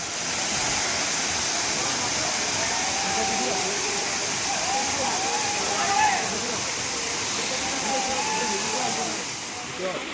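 The Rani Khoiyachora waterfall pours in a steady, loud rush of white water, with a person talking over the constant hiss.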